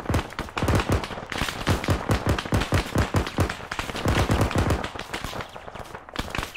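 Arma 3 video game gunfire: a dense, rapid string of sharp, punchy shots in quick succession, loud and close.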